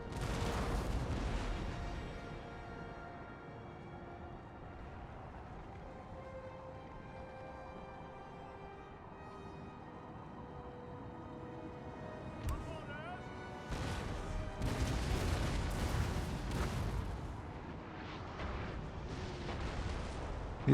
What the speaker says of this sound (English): The auto fire's spreading the shots around nicely to weaken up all of their center troops